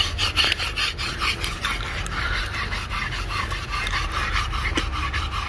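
A brush is rubbed over a horse's coat before riding, giving repeated scratchy strokes in a steady back-and-forth rhythm, close and moderately loud against outdoor background noise.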